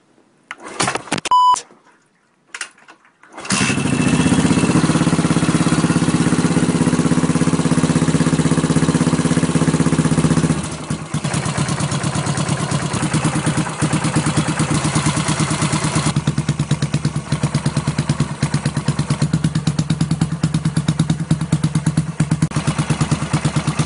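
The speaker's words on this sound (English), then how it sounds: "Run the bike for a few minutes so the oil will flow out more smoothly." A motorcycle is started after a few beeps and clicks, then runs warming up before an oil change, a loud steady close idle that drops to a lower, rougher throb partway through.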